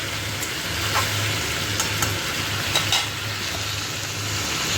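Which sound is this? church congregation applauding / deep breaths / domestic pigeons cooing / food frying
food frying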